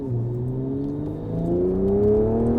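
A Toyota Supra with a stage 2 tune revs steadily, its engine note climbing smoothly and growing louder toward the end, heard close with no talking over it.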